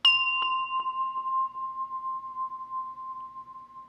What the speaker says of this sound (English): Good Chime.